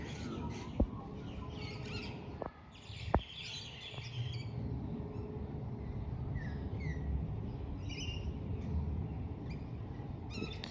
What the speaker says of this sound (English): these are the little parrots, the red and blue and green ones